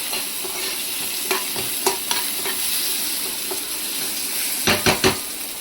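Turmeric and curry leaves sizzle in hot oil for a tempering, a continuous frying hiss broken by several sharp clinks of a spoon stirring against the pan, with a quick cluster of knocks near the end.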